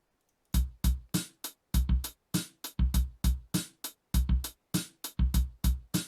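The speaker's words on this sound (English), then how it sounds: "So this is how the drum loop sounds without the modifications." An unmodified FL Studio drum loop of kick and snare, punchy close hits repeating in a steady pattern with crisp bright snare cracks over deep kick thumps, no voices.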